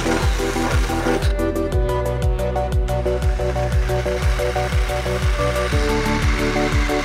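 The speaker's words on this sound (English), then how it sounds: "we're using a stepper drill bit and we're drilling it to about 7/8" A stepper drill bit bores a roughly 7/8-inch hole through the steel hood of a 1966 Mustang coupe, a steady close motor whine with a regular pulsing rhythm throughout.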